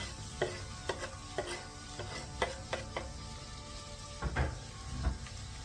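Onions and chillies go into a hot pan for a chilli lamb curry and are stirred, giving a soft sizzle broken by a regular series of light spoon scrapes and taps against the pan.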